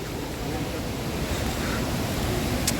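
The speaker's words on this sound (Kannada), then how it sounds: "ತಲಾಸಿ ತಲಾಸಿ ಜಲಪಾತ" Talasi waterfall, a dangerous multi-tiered falls, roars as a continuous broad rush of water, steady and fairly loud, with no voices over it.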